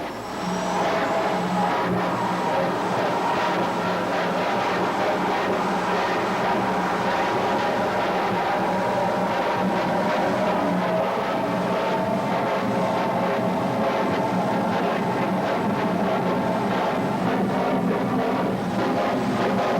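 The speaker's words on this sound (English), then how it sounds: "you can get a better look at the Strel's jet funny cars, burner popping their way to the starting line, injecting raw fuel to the afterburner, hitting the ignition" Jet funny cars with J34 jet engines pop their afterburners on the way to the starting line at a 1986 drag strip, giving a loud, continuous roar with rumbling bursts throughout.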